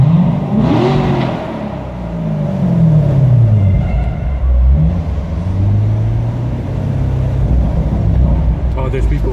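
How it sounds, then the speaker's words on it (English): A 2019 Chevrolet Corvette engine revs repeatedly, rising and falling in loud, close sweeps with a deep throaty rumble between pulls, while people talk over it. "let me try revving for a little bit."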